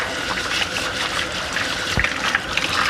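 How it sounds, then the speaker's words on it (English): Warm tap water running into a kitchen sink while potatoes are rinsed, a steady close splashing gush with small knocks and sloshes, no voices. "all I'm going to do is use warm water to rinse them off"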